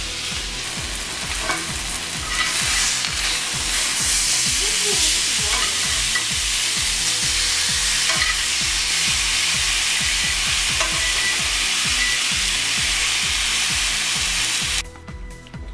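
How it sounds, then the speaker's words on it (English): Tortillas frying on a stove give a steady, close sizzle that runs almost without break, with light scraping and stirring sounds on top. The sizzle drops away sharply near the end. "And then of course you got tortillas cooking over there."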